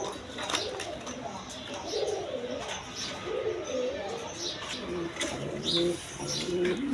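High-flying Giribaz pigeons coo softly on a pigeon farm, a low steady murmur of coos beneath a voice talking, with faint chirps mixed in.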